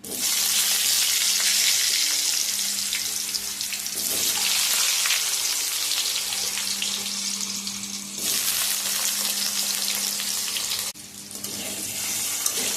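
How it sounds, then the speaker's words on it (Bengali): Potatoes sizzle and crackle loudly in a hot pan, a dense hissing wash that drops briefly a few times as they're stirred. "এবার আমি এটাকে ভালো করে নাড়াচাড়া করে ভেজে দিয়েছি"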